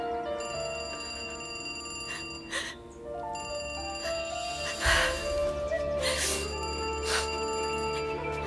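A telephone rings in a drama scene, its repeated bell-like ring bursts sounding over background music at moderate volume, with no talking during the ringing.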